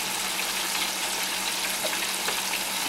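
Chicken fries in fresh grease with a loud, steady sizzle, a dense hissing bubbling that stays constant throughout, close up and with no talk.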